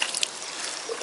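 Water trickling and sloshing while a catalytic converter is washed out, a steady hissing wash with a few small splashes, close and alone.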